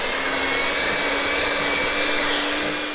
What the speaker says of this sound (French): après avoir mixé avec mon batteur